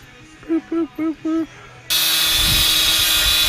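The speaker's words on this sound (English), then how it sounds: "Now I gotta drill my hole" Four short high beeps, then a loud, steady power drill whirring close up for the rest of the clip.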